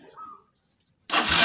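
A motorcycle's electric starter cranks and the engine catches abruptly, settling into a loud, steady running note after a brief near-silence; faint background sounds come before it.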